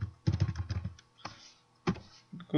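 A computer keyboard clatters as a search query is typed, a quick run of close clicking keystrokes followed by a few isolated taps after short pauses.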